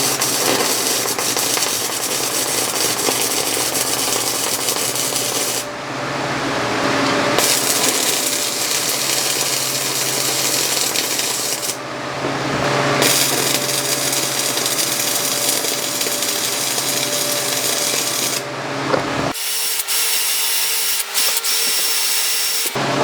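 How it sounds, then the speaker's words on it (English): Stick welding on 1/8 inch metal at 120 amps, a loud steady crackling and hissing that runs continuously with a few short breaks between runs, ending in quieter near-silence. "as soon as this stick touches that metal, it's going to start welding"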